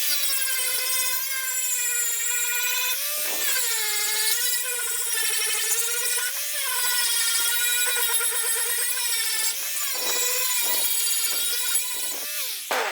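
Grinding on the sheet metal of a classic 1951 Ford door gives a steady, loud high-pitched whine that dips and bends in pitch repeatedly as pressure on the metal changes.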